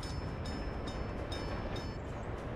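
A train running in a coal-hauling town-building video game, with a steady, dense rumble and rolling rail noise and faint repeated high squeals, fairly quiet and continuous with no talk.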